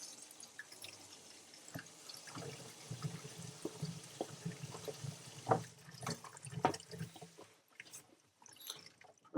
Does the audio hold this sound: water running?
yes